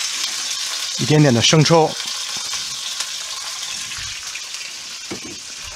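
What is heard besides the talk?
stir-frying ginger and scallion in a wok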